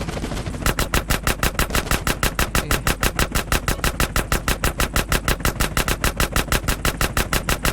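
Rapid automatic gunfire in GTA San Andreas aimed at a helicopter, a loud, relentless string of evenly spaced shots repeating several times per second for the whole stretch, with no talk.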